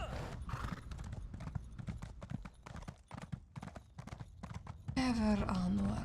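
Rhythmic hoofbeats of a horse in Elder Scrolls Online clip-clop steadily with a horse whinny, loud and close, and a voice speaking over them toward the end.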